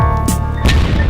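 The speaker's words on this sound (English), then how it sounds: "there was a series of loud explosions" Truck tyres burst inside a burning road tunnel, giving heavy booming blasts over a constant droning rumble, with two sharp concussive hits in quick succession.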